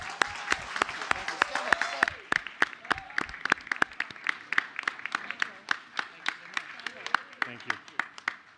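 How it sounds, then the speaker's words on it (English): Applause for high school students at a school board meeting in a large hall, many separate claps that thin out to a steady, slowing patter, with a voice briefly speaking over the start. "We have another round of applause for our Herndon High School students."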